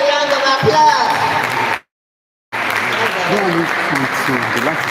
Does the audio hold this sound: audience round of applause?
yes